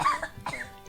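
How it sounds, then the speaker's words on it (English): A man clears his throat twice in quick succession, close and fairly loud, with a short rough cough-like burst. "I'm having to clear my throat on this one."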